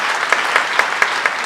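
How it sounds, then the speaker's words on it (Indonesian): A church congregation at a Sunday worship service applauding, a brief burst of dense, close clapping with a few sharper individual claps standing out. "Beri tepuk tangan lagi buat Tuhan kita."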